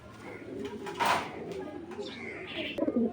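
A red checker racing pigeon coos close by in soft, low repeated calls, with handling noise and a faint voice in the background.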